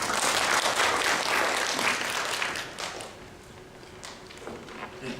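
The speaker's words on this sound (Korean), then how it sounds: "박수로 맞이해 주시기 바랍니다" A conference audience at LODAC 2018 welcomes a speaker with a burst of full applause that thins out halfway through, leaving a few scattered claps and shuffles.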